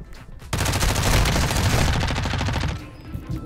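Rapid bursts of video game gunfire rattle loudly and continuously for about two seconds after a brief quiet start, then cut off into near silence.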